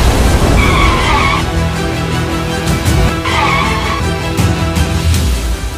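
A car skids with its brakes failed, a loud sustained tire screech with engine roar that rises and falls in two long squeals, followed by sharp bursts, as a dramatic TV serial effect.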